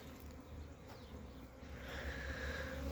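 A steady, dense buzzing of many bees fills the air, continuous and moderately near, with no voices present.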